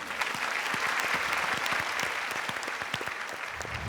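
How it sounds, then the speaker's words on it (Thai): Studio audience clapping on a Thai game show, a brisk, even burst of many hands that stays steady and fairly loud for a few seconds without talk. "ขอเสียงปรบมือ"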